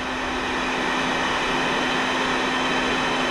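A vacuum draws baldfaced hornets up through its hose, giving a steady, loud broadband suction roar with a constant motor hum, even and unbroken throughout, with no voices.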